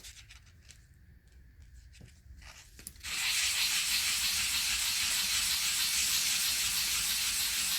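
Sandpaper sands an epoxy resin casting: faint scraping and handling at first, then from about three seconds a loud, steady, continuous hiss of abrasive rubbing, close by, with no talk.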